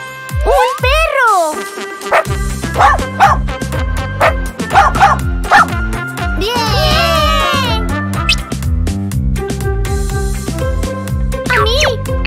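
A toy dog from a surprise egg gives loud electronic yips, barks and whimpers over a bright musical jingle, with a voice joining in.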